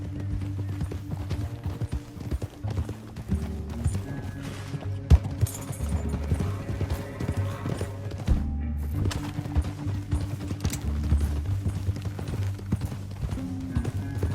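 Horse hooves clip-clop at a steady riding pace in Red Dead Redemption 2, set beneath a continuous bed of game music that stays loud and layered throughout.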